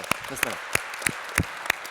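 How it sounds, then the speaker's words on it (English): A small group claps steadily in a regular rhythm, with a voice speaking briefly under the applause. "let's clap it up for that"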